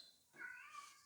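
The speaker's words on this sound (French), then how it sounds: "vous allez entendre mes chats pleurer" A single drawn-out cat meow, fairly close and clear, rising then trailing off, with no other sounds around it.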